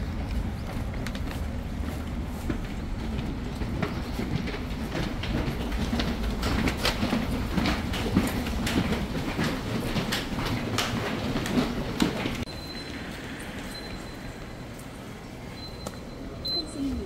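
A metro train in Incheon rolls along the rails with a dense, rumbling roar and rapid clattering for about twelve seconds. The noise then drops to a quieter steady hum as a faint high tone sets in.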